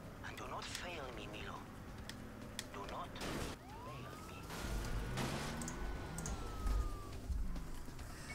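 An ambulance siren in the video game Wheelman sweeps upward and holds a long tone under talk, mixed with engine and street noise from the game.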